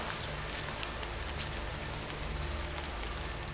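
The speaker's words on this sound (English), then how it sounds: "it's raining quite heavily today" Steady, dense rainfall pours down continuously on the Dusky Track in New Zealand, a broad hiss of heavy rain with no pauses and no voices.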